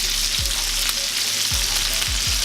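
Bacon and sausages sizzle steadily on a 36-inch Blackstone griddle, a loud continuous hiss with a few low thumps as pieces shift.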